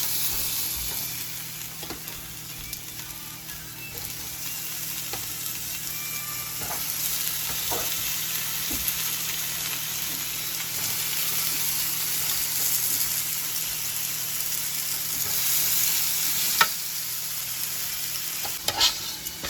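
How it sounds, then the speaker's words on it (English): Steaks sizzle steadily on a hot grill as part of a home-cooked steak and mushroom meal, a loud continuous frying hiss with occasional scraping and clinks throughout. "Now we put these on the grill."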